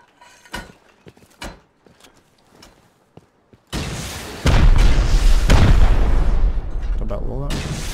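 Rocket launcher fire rips through a raid on an armoured bunker in an online survival game, with scattered pops and thuds giving way to loud, continuous booming explosions as voices talk over it.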